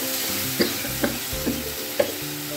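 Spice paste for a spicy small-fish chorchori sizzles steadily in a pan while a spoon scrapes and stirs it in four distinct strokes, close and continuous, with faint music underneath and no talking.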